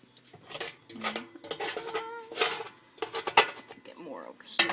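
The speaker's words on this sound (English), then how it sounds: "I'm just going to grab some of these drippings. And I'm going to start basting" A spoon scoops pan drippings to baste meat, giving irregular metallic clinks and scrapes against the pan, with a faint voice murmuring at times.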